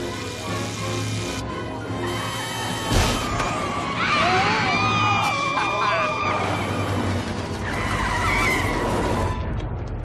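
Race cars skidding during a final race, tires squealing in long wavering screeches over a steady engine roar, with a sharp impact-like burst early and a crowd or voices faintly underneath.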